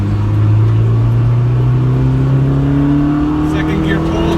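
A Honda Civic EG at full throttle, its engine note climbing steadily in pitch under a loud, constant roar, recorded from inside the car, with a brief higher whine near the end.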